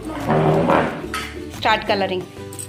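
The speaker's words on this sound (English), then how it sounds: "I'm taking bowl back" A bowl knocks and clinks as it is slid across a table at a children's activity, a couple of short close clatters between bursts of speech.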